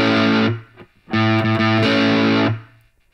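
Distorted electric guitar chugging a verse rhythm with a heavy effects tone, quick muted strokes building into long sustained chord hits with brief gaps, loud and with no voices.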